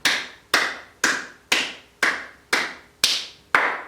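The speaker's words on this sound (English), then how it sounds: "Tapping the right forearm, the right wrist, the right hand, and then clap" Palms tap along the right forearm, wrist and hand, then a clap, during a yoga class: eight sharp, evenly spaced slaps about half a second apart, each one close, bright and quickly decaying, with no talking over them.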